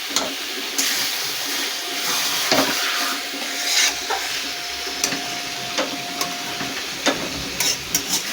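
Chicken pieces frying and being stirred in a pan for chicken curry, with a steady sizzling hiss and scattered clinks and scrapes from the stirring.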